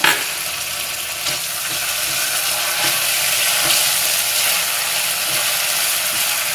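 Ginger garlic paste fries in a pan with a loud, steady sizzle throughout, with faint scraping clicks of stirring beneath it and no talk.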